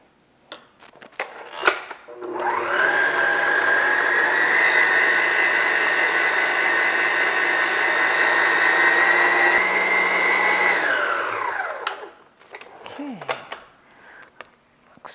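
An electric mixer beats butter and sugar in a bowl, a loud steady whirring drone for about ten seconds that spins down, with scraping and clinks before and after.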